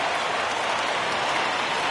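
A home crowd in a baseball video game, a Tampa Bay Rays franchise mode, roars and cheers after a home run, a dense, steady wash of crowd noise lasting about two seconds with no talk over it.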